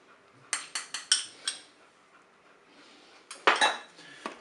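Utensil stirring pork chops with mustard and tomatoes inside a Cookeo multicooker pot, giving a quick run of five sharp metallic clinks and scrapes, a pause, then another cluster of louder clanks close to the microphone.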